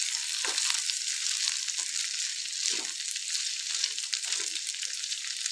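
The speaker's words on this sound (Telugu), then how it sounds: "మధ్యలో కలుపుతూ నేనైతే ఇట్లా ఫ్రై చేసుకుంటున్నాను" Gokarakaya (cluster beans) fry in a pan with a constant hiss of sizzling oil, broken by occasional scraping stirs of a spatula, close and steady throughout.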